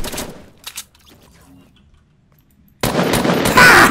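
Dual pistols fire in the Fortnite video game as rapid, loud bursts of shots, one at the start and a sustained volley after a near-silent pause.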